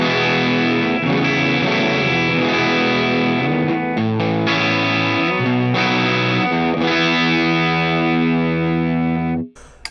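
Gibson SG on the bridge pickup through a Line 6 Helix amp model with low and high cuts, distorted chords strummed and sustained loud and close, several chord changes, ending abruptly.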